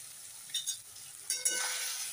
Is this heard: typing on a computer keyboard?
no